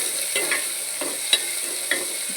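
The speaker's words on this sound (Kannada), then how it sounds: "2 ಕಾಯಿ ಮೆಣಸು, ಮತ್ತು ಟೊಮೆಟೊ ಒಳ್ಳೆ ಮಾಡಿ ಫ್ರೈ ಮಾಡಿ." Chopped onion, two green chillies and tomato fry in a pan with a steady close sizzle, broken by several soft scraping stirs of a spatula.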